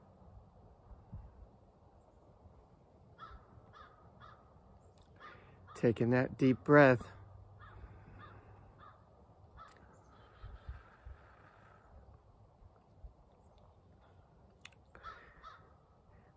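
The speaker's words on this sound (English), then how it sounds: "that crow is making a lot of noise." Crow cawing outdoors, a quick burst of several loud caws in the middle against quiet ambient background, with a person speaking softly and breathing nearby.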